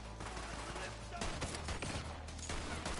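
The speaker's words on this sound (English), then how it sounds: "Got guys shooting me from above." Enemy gunfire in Borderlands 3, dense overlapping shots and bursts coming from above, steady and fairly loud throughout with a heavier stretch midway.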